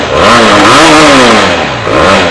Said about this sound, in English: Let's check out the exhaust note.